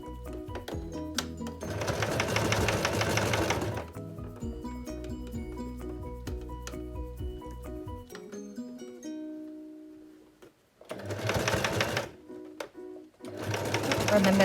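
Sewing machine stitching elastic onto a face mask sewn from an old Calvin Klein T-shirt, running in loud sustained bursts separated by pauses, with faint background music underneath.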